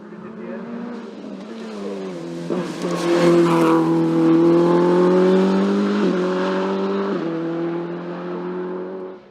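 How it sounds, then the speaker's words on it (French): A loud Simca CG Turbo rally car engine roars and revs hard as it climbs the final hill of a rally, gear changes breaking the steady drone, with a voice talking in French over it. "Dans la dernière montée, Christophe Poinsignon l'emporte sur son Simca CG Turbo"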